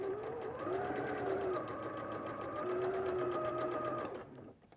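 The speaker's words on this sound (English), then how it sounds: "And sew that together." A sewing machine runs steadily while stitching a quilt seam, a continuous close whirring hum with a fine rapid needle rhythm lasting about four seconds before stopping.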